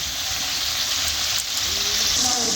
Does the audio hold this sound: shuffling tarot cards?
no